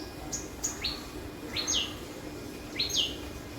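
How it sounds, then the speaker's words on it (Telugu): Several short bird chirps ring out at intervals over a low steady background hum, fairly faint and outdoors-sounding, outside a home on an overcast morning. "బయట పక్షులు"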